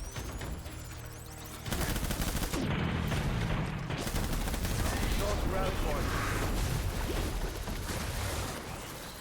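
A World War I battle scene in the video game Death Stranding erupts into dense, continuous gunfire, with rapid machine-gun bursts and heavy blasts layered under someone talking.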